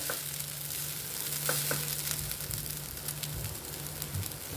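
Fresh grated coconut filling for karanji sautés in a pan with a soft, continuous sizzle and occasional scraping stirs from a spatula, close by and moderately quiet.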